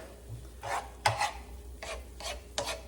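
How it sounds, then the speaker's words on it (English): Cauliflower grits with sour cream and cheese stirred in a pot, giving about five distinct rasping scrapes in an uneven rhythm, close and moderately loud, with no talking. "So we'll go ahead and stir that up."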